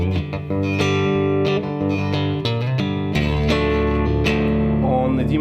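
Electric guitar playing chords with two strings muted, strummed rhythmically with a thick sustained harmonic tone and a shift to a lower chord partway through, alone with no talking.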